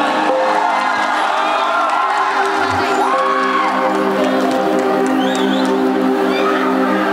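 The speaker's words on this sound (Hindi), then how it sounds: "एक जोरदार ताली हो जाए भैया।" A large crowd at an outdoor Bhojpuri political rally cheers, whoops and claps loudly and continuously, with children shouting and a sustained tone running underneath.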